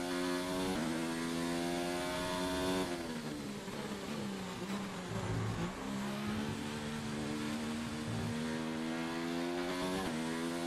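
A Formula 1 race car engine in the F1 2019 racing video game screams at high revs without a break, loud and steady, with gear shifts stepping the pitch up and down.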